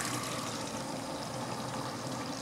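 Water from a 3-amp bilge pump runs steadily through a blocked 1998 Force/Tracker 50 hp outboard motor, a constant close pouring and splashing rush that holds at even loudness throughout.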